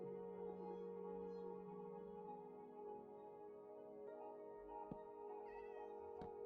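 A cat meows in the Minecraft game, short and quiet, near the end and set under steady background music.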